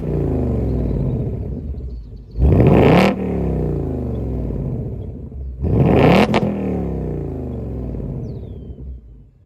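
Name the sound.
2024 Ford Mustang GT 5.0 exhaust on warm start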